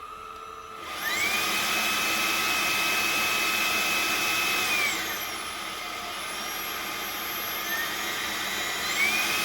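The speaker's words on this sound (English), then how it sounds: "This is such a nice, sleek vacuum" A eufy E20 3-in-1 robot vacuum cleaner switches on and runs with a loud, steady motor whine and high-pitched tonal hum, the pitch shifting slightly partway through as it keeps running close by.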